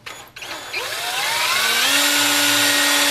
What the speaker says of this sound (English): And then go ahead and re-drill out your hole.